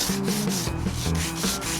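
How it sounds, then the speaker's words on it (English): Sanding a bath panel produces continuous close scraping and rubbing strokes in a quick, fairly even rhythm, with no talking. "Then a bit of a sander"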